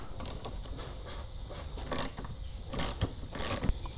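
Torx T25 bit driver on the windshield bolts of a 2025 Harley Street Glide Ultra, giving quiet metallic clicks, ratcheting ticks and light clinks in scattered short bursts.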